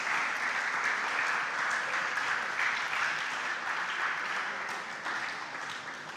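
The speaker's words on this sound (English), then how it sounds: "A big round of applause for our contestants." Sustained audience applause at a junior high school quiz competition, a dense, steady clatter of many hands clapping continuously and filling the whole stretch at even loudness.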